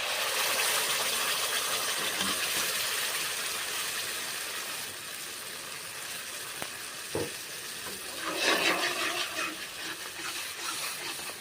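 Cashew paste fries in a pan with a loud, continuous sizzling hiss, and a few stirring scrapes and a brief burst of spattering rise near the end.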